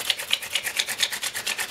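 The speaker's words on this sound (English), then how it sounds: "It's drilling pretty good actually" A shark tooth drill bores into flint with a steady rhythmic grinding rasp, about four strokes per second, close and fairly loud with no talking.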